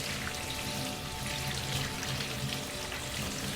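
Running water splashes steadily over a stone being rinsed clean after a soapy wash, a constant close hiss with no voices.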